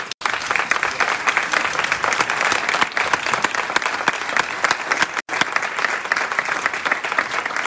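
Loud, dense applause from an audience at the Premios Go 2022 award ceremony in Otxarkoaga, steady and sustained with two brief dropouts, no voices on top.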